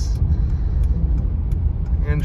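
A 2006 Lexus LS 430 on a short evening drive with a pumped-up tire: a steady, loud low engine and road rumble fills the cabin, with a brief higher-pitched sound near the end.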